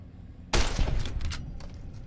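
A single sharp sniper rifle shot cracks out in the video game Fallout, loud and sudden, then tails off into a rumbling decay with faint scattered debris sounds.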